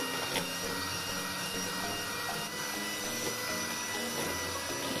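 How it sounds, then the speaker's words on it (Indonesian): An electric hand mixer whirs steadily at high speed, beating pumpkin apem batter with coconut milk, a continuous close motor drone with no talking. "kita naikkan kecepatan mixernya. Kemudian mixer terus sampai adonannya itu tampak mengembang ya"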